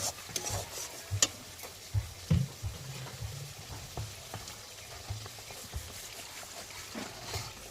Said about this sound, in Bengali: এবার আমি এর মধ্যে একটু জল দিয়ে দেবো পরিমাণ মতো